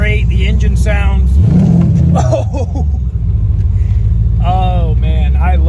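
A 1988 Corvette with a 383 V8 rumbles loudly from the cab, deep exhaust swelling briefly as it accelerates then settling into a steady drone, with someone talking over it.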